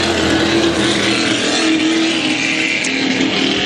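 A Pro Stock drag racing car engine at the HRL Valleyfield heat, a loud sustained roar with a steady low droning tone, heard continuously and close without any talk over it.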